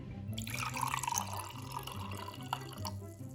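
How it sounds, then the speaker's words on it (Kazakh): Liquid splashes and trickles as it is poured steadily into a glass, a continuous close pour lasting a few seconds with dripping at the end. "мінекей стаканға мен алма сок деп осыны құйып қоямды"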